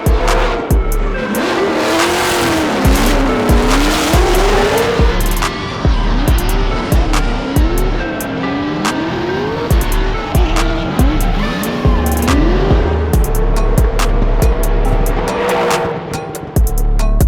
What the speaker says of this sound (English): Ladies and gentlemen, that is drifting.